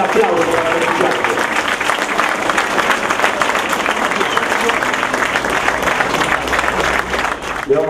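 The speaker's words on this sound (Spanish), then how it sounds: "Pues el aplauso para el equipo." Crowd applauding the Club Acassuso football squad at its 2012/13 team presentation, a dense steady wash of clapping that runs the whole time with voices mixed into it.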